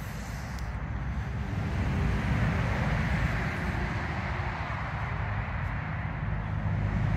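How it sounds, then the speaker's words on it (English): Night road traffic near a roundabout, with lorries and cars passing as a steady low rumbling roar that swells slightly and then holds, heard from a short distance with no talking. "still a lot of lorries and stuff on it"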